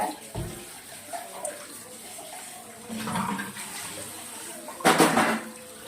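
Water from a kitchen tap splashes in short, uneven bursts during dishwashing, close by, with a louder gush near the end and a voice talking between the bursts.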